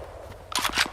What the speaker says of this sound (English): Jam. Shotgun not in the best condition, it would seem.